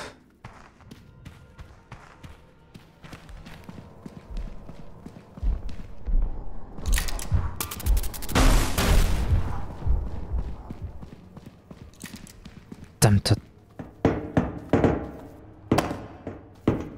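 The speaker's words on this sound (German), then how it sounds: "sind die Schritte laut" Heavy footsteps thud in the horror co-op game Content Warning, an uneven run of loud, close knocks and thumps that swell into a denser noisy burst midway, then return as sharp separate impacts.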